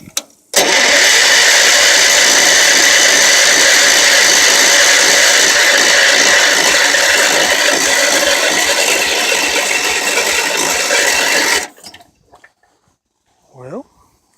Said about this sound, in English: Alright, let's see if it'll crank back up again.